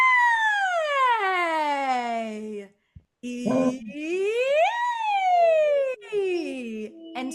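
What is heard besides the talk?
singer's vowel siren, voice sliding from low to high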